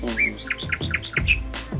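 Migratory birds calling at Ankasamudra bird sanctuary, a Ramsar wetland: a quick series of bright, repeated chirps and short whistled notes in steady rhythm, fairly close and clear, with no talking.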